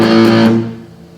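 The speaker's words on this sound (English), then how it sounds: "I can turn the gain up to make it more rock sound" An electric guitar with its gain turned up rings out a loud, distorted sustained chord that holds for about half a second, then fades away, with no voice heard.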